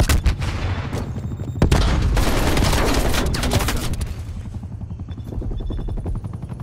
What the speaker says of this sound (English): attack chopper deployed